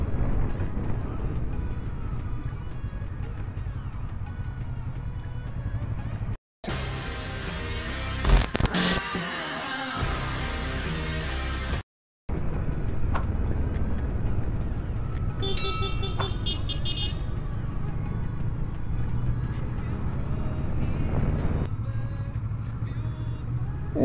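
Several motorcycle engines, including a Kawasaki Vulcan S 650, rumble steadily and loudly on a ride into Guapimirim, Rio de Janeiro, with a brief break in the middle, then continue droning as the bikes ride on.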